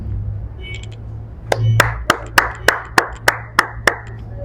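One person claps hands in a slow, steady rhythm, about ten sharp, close claps in imitation of an applauding crowd, following a brief faint voice at the start.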